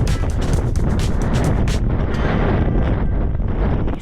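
Strong wind buffets the microphone with a constant roaring rush and sharp gusty bursts early on.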